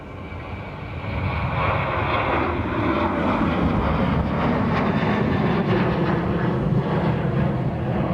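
Aircraft lining up on runway 25 at Dublin Airport, a loud rumbling jet engine roar that swells in the first second and then holds steady and broad, heard from outdoors with no talking.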